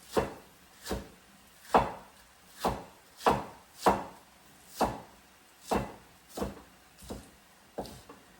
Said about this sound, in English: so now I'm going to go ahead and chop the green onion